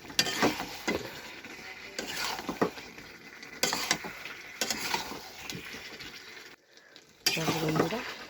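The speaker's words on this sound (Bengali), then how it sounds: "একটু কষা হবে, আলুগুলো দিয়ে দিলাম, মাংসটাও দিয়ে দিলাম।" Meat and new potatoes sauté in a pan, stirred in bursts of scraping and clattering against the metal over a low sizzle, with brief quiet gaps between strokes and no voices.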